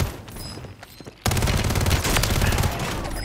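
Video game gunfire in a Plunder-mode match: a few sharp shots over quieter game ambience, then a sudden loud sustained burst of rapid firing that continues to the end, with no talk.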